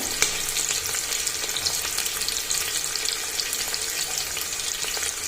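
Garlic and curry leaves frying in hot oil for mushroom biryani, a continuous dense sizzle with fine crackling throughout, loud and close.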